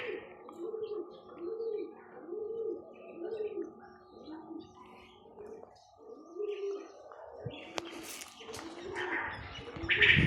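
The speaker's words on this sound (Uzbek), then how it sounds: "Kabutar." Pigeons coo in a steady, rhythmic series of low repeated calls at close range, with a few chirps and scattered bird sounds joining near the end in an outdoor landscaped setting.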